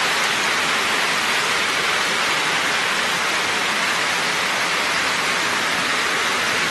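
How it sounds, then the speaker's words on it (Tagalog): Dense, steady roar of heavy rain pouring down at a campsite in Tuba, Benguet, during a storm, a constant broadband hiss with no pauses. "Grabe, lalong lumakas yung ulan."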